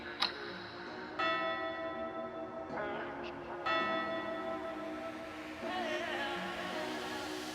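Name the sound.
last bell ringing at Treasure Castle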